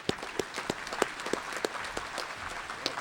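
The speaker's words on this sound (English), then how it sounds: "a round of applause" A small group at a sports hall of fame ceremony claps steadily, sparse, distinct hand claps blending into modest applause, fairly distant.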